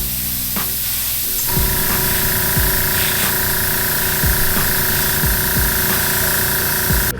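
Aerosol spray paint hisses onto a custom lowrider-inspired art piece in steady bursts, with a continuous airy spray running almost unbroken from start to finish under a faint background hum.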